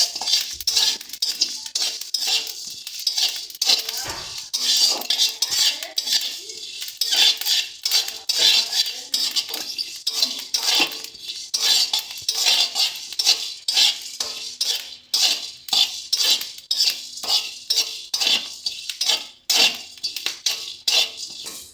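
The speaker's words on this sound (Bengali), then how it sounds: "মশলাটাই কিন্তু কন্টিনিউ নেড়ে নেড়ে ভালো করে ভাজতে হবে" Spice masala for a chicken keema ghugni being continuously stirred and fried in a pan, a fast, relentless run of close metal spatula scrapes and clinks against the pan with faint sizzling underneath.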